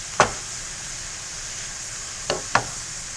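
A spoon stirs food in a hot sizzling pan while making moco loco, a constant bright sizzle with three sharp scrapes against the pan, one early and two close together near the end.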